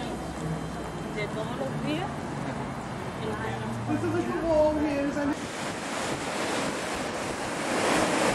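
Water rushes and laps continuously near the mountain train stop at Kleine Scheidegg in the Swiss Alps, with wind buffeting the microphone and people talking over it.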